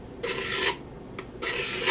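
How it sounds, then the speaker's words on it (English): A card scraper breaks the corners of wooden vise jaw stock in two short rasping strokes, close and moderately loud, with a brief light scrape between them. "I'm just gonna break the corners a little bit."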